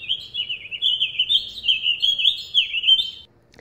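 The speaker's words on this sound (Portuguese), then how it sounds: "Passarinho." A small bird sings a continuous high, wavering chirping trill, clear and close against a quiet background, stopping abruptly just before the end.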